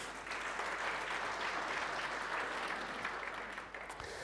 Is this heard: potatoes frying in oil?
no